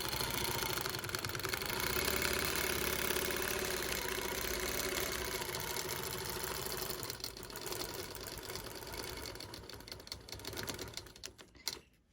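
A longarm quilting machine stitches around the outline of a quilted ribbon design, keeping a steady, even mechanical hum for most of the stretch before it slows and trails off near the end.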